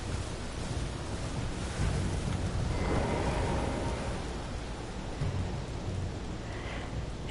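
Rain hisses steadily in Elden Ring while a low thunder rumble swells and fades in the middle, with no voices over it.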